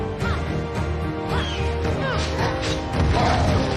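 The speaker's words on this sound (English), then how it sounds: "Smashing the ground is also one of his favorite attacks." Enemy smashing the ground in the video game Immortals Fenyx Rising: dense, loud crashing impacts amid battle noise and swooping effects, continuous and close with no speech.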